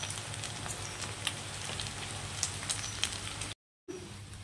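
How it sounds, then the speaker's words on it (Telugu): Cut chicken pieces frying in a pan for homemade chicken fried rice, a steady close hiss and crackle of hot oil with small pops, briefly cutting out before resuming. "ఫ్రై అయిన తర్వాత దాంట్లో మనం కట్ చేసిన చికెన్ పీసెస్ వేసుకోవాలి"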